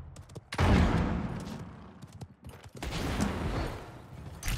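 Rapid bursts of video game gunfire, with one loud volley after a brief lull and then a second sustained stretch of shots, stay close and dense the whole way through.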